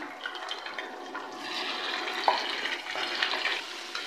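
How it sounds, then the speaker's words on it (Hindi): Chicken wings sizzle steadily in hot oil with dried coriander and white cumin, a close, continuous broadband frying hiss with small pops and crackles throughout, no voice heard. "विंग्स को हम फ्राई कर लेते हैं और लाइट ब्राउन कर लेते हैं इनको"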